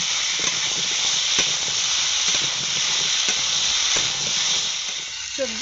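Vegetables with chopped tomato fry in a pan, making a loud, continuous, close sizzle and hiss that holds steady throughout.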